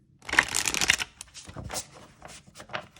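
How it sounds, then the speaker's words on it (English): Large, stiff Dark Goddess Oracle cards riffled and shuffled in a quick burst, then softer intermittent shuffling and tapping close by, with no one talking. "I don't really side shuffle these like my other cards because they're so big."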